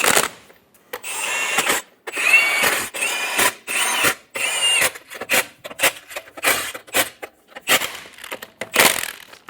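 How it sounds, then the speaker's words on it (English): Lug nuts on a 2014-2018 Chevrolet Silverado 1500 front wheel are run down with a ratcheting tool, a close, busy series of clicking, whirring bursts separated by short pauses. "Install the wheel, install the lug nuts."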